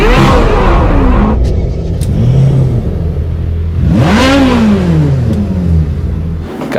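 A Chevrolet Corvette C8 Z06 engine starts and revs close and loud, with two sharp climbs in pitch that each fall back over a deep, rumbling idle.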